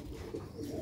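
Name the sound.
pigeons cooing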